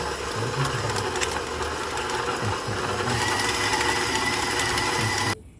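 Electric mixer beating blocks of cream cheese for a pumpkin cheesecake filling, a steady loud motor whir with rattling, churning texture running unbroken for several seconds before cutting off.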